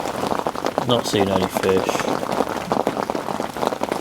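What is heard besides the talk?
rain falling while carp fishing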